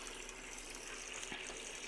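Water gushes steadily from a faucet with its aerator removed, a quiet, even rushing stream with no break and no voices.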